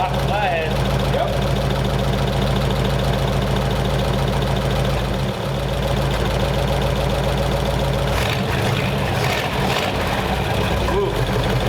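A stock Ford Flathead V8 idles close by, a steady low rumble with an even, smooth beat that holds throughout, with people talking over it.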